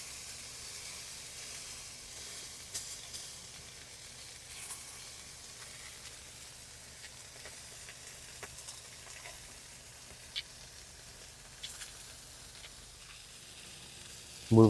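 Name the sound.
steak searing on Masterbuilt grill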